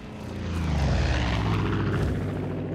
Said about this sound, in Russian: Еще и самолет на нас напал